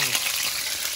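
Chopped garlic sizzles in hot oil in a frying pan, a loud, close, steady crackling hiss throughout the brief moment.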